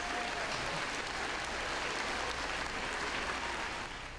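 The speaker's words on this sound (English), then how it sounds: "round of applause?" A round of applause for teachers and staff standing at a state board of education work session, steady even clapping from a large indoor crowd, moderately distant, with no talk over it.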